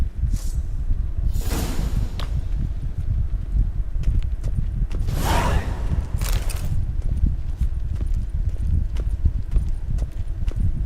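Horse hooves clip-clop at an unhurried walking pace in The Witcher video game, steady and close, with occasional swishing rustles over a low ambient bed.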